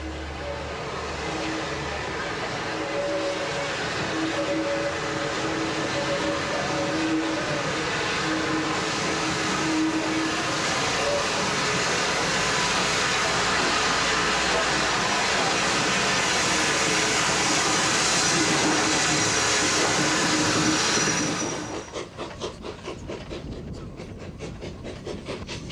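A steam train runs along the heritage East Lancashire Railway on an 18-mile line, giving a steady, loud rumble and rubbing rail noise with faint tonal hums, which cuts off sharply near the end into quieter rattling.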